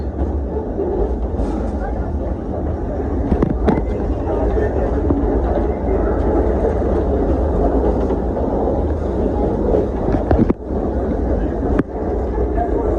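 A steady rumble of a moving forest museum train, with clattering and wind noise throughout and occasional sharp knocks.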